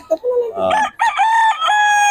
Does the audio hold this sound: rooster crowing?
yes